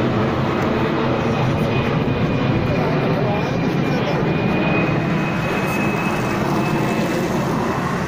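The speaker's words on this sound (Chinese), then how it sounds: "天上又来飞机了。" An airplane on its landing approach to Hongqiao over Shanghai passes overhead with a loud, steady jet roar and rumble that fills the whole stretch evenly from start to end.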